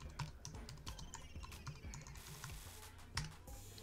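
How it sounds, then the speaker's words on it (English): Fingers tap quickly on a computer keyboard, a soft, steady run of clicking keystrokes with no talking. "I'm going to type in I Love Glitter"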